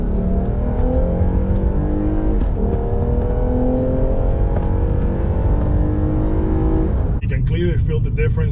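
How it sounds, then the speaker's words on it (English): Lexus IS350 F Sport with an HPS intake accelerating: loud engine note rising steadily in pitch with a faint intake whine on top, then a sudden shift near the end; someone talks over it. "You actually can hear a little bit of that whine as you're actually accelerating the car"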